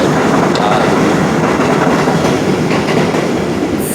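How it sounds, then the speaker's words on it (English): A passing train rumbles and clatters loudly and close by. The heavy rail noise stays steady from start to finish, with no talking over it. "Pardon me for the train."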